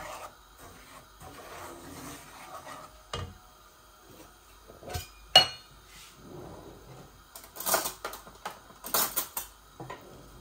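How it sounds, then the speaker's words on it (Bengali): Semolina is fried and stirred in a pan, with a spoon scraping and clattering against the metal in irregular bursts between quieter stretches of sizzling. No one speaks. "সুজিটাকে ভাজতেছি"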